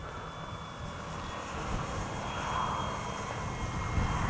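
FMS 1800mm Ranger RC plane with its electric motor at under half throttle, a steady droning hum heard from a distance, flying into strong wind with wind noise throughout and no speech.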